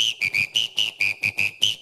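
A man imitates a whistle with his mouth, giving a rapid series of about ten short, shrill, piercing blasts in a quick rhythm, loud and close with no other sound.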